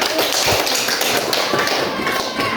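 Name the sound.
class clapping hands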